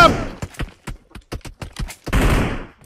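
A gun in PUBG Mobile fires a quick string of about ten sharp, distinct shots in uneven rhythm, followed by a denser, rolling burst of fire that trails off at the end.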